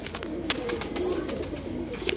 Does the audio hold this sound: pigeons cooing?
yes